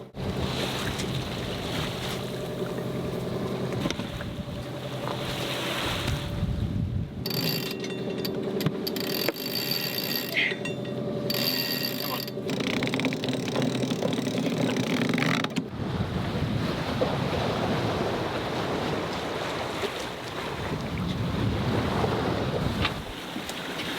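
A small sailboat runs fast at sea, about 7.2 knots, with a loud, continuous rush of wind and water. Waves wash against the hull, wind buffets the microphone in gusts, and no voices are heard.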